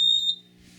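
Simplex 4010 fire alarm panels powering up, giving a loud, sharp high-pitched electronic beep lasting about a third of a second, followed by quiet hum.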